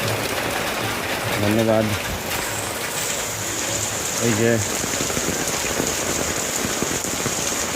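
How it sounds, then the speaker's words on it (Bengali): Heavy continuous rain at Raghunatganj falls in a steady, close, loud wash, with a person briefly speaking twice over the downpour. "ভীষণভাবে বৃষ্টি হচ্ছে, এরকম অনবরত বৃষ্টি আগে কখনো দেখিনি।"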